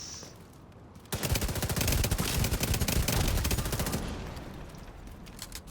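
Assault rifle fire in the video game The Division 2, a loud sustained burst of rapid automatic shots lasting about three seconds, then fading into quieter game ambience, with no talking.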